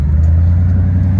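A 1999 Lexus GS400 with a 4.0L V8 and dual Borla Pro XS exhaust with an X-pipe idles with a deep, steady, loud rumble, close by and with no voices over it.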